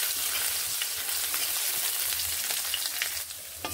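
Grated ginger and chopped green chilies frying with cumin seeds in hot oil for dal puri filling, a loud continuous crackling sizzle with light stirring scrapes, close and unbroken, no speech.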